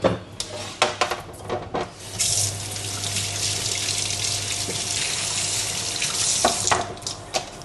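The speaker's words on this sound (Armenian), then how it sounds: "Հիմա լվանամ ես ամեն ինչը" A kitchen tap runs as ingredients are washed beneath it, a steady splashing gush of water with clatters of handling at the start and end, close and loud, no talking.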